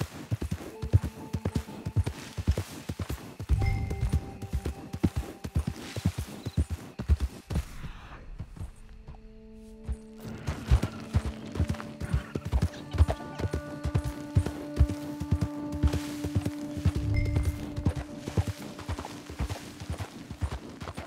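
Steady clip-clop of horse hooves trotting close by in the video game Red Dead Redemption 2, with a short pause midway before the rhythmic hoofbeats resume over a faint musical drone.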